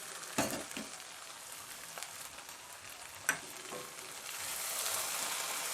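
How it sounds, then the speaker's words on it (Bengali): Cabbage and potatoes fry with pork in a pan after their water has cooked off, a quiet, steady sizzle broken by a few sharp stirring clicks, with no talking. "এই জলটা শুকিয়ে গেছে, এবার এটা ভাজা ভাজা হচ্ছে"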